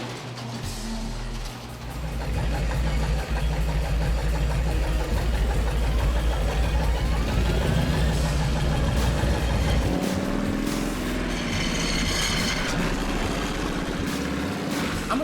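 Harley-Davidson Panhead motorcycle engine running steadily with a loud, continuous low throb and lumpy idle-like pulsing, close by, shifting in tone near the end.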